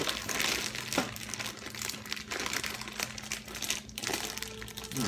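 Plastic packaging of a Star Trek ISS Enterprise NCC-1701 model crinkles and crackles up close as it is handled and pulled open, with sharp snaps amid continuous rustling.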